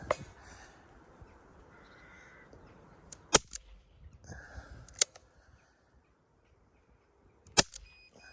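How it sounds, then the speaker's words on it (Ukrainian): Several sharp, isolated cracks of a Safari Sport air rifle firing at a target, spaced seconds apart, with quiet outdoor ambience and faint bird calls between shots. "Отже, стріляємо по мішенці."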